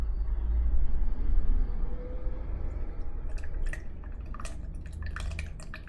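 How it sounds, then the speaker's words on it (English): Coolant is poured slowly into the cooling system of a KLR650 motorcycle, a steady close trickle over a low rumble, followed by lighter dripping and clinking splashes toward the end. "Get your coolant, get it poured back in."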